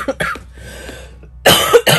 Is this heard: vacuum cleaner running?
no